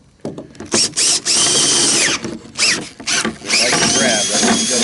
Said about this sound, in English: You'll flip it over and drill it from this side.